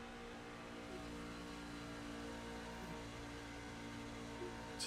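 A racing truck engine in a sim racing game drones steadily at light throttle, a smooth even hum with no hard revving, heard on its own without talk.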